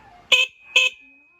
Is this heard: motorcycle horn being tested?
yes